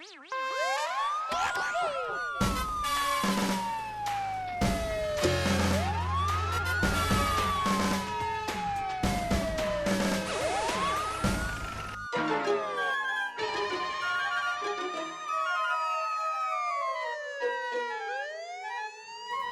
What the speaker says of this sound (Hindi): देखो, पुलिस के सायरन की आवाज आ रही है।